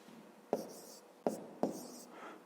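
Pen or marker strokes writing numbers by hand during a fifth-grade maths lesson, three short tapping-scratching marks close by, quiet and alone with no talk.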